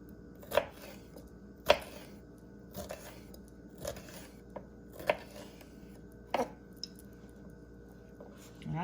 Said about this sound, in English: We're gonna go ahead and chop this up